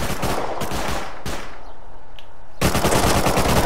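Rapid automatic gunfire in a video game shooter, loud close bursts with a short gap before the firing resumes.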